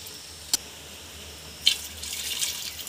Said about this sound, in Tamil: இப்போ 1க்கு 1/2 அளவுக்கு தண்ணி சேர்த்துக்கலாங்க